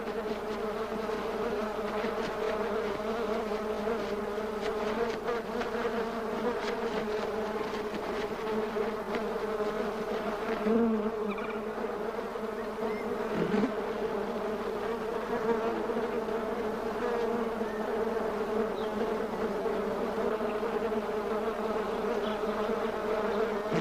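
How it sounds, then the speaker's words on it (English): A steady, dense buzzing of bees gathering pollen and nectar at saguaro cactus blooms in the desert, continuous and close for over twenty seconds, with slight swells as individual insects pass nearby. "The bee's only concern is to harvest the nutritious pollen and nectar for its hive"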